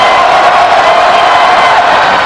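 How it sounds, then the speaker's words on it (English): A dense basketball arena crowd roars and cheers steadily, a loud, sustained wash of noise while a player stands at the free-throw line in a college game, UMass at George Washington. "Crowd going to make some noise"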